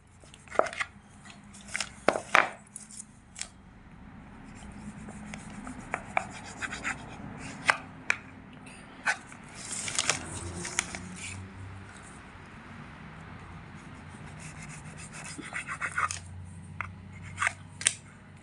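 A knife trims the four sides of a rolled sheet of potato, flour and egg dough, giving scattered crisp cuts and scrapes against the board with short pauses between strokes, close and fairly quiet.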